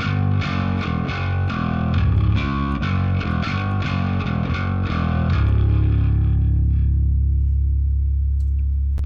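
A bass guitar runs through a Line 6 Helix Native SVT Bass Beast Bright amp model, giving a gritty, driven tone. A quick run of plucked notes leads into one deep note that is held and slowly fades.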